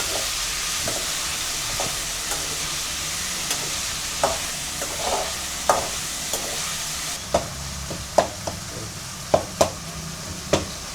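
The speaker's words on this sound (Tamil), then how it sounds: "தக்காளி நல்லா வதங்கட்டும். நல்லா கொஞ்சம் கிண்டிக்கலாம்." Tomatoes softening in a pan for a Chettinad oil brinjal curry, with a steady low sizzle and frying hiss and repeated spoon knocks against the pan from stirring that grow sharper toward the end.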